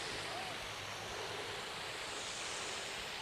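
A waterfall in Greystoke, Cumbria, heard as a faint, steady broadband rush of falling water, even and continuous, with no distinct events.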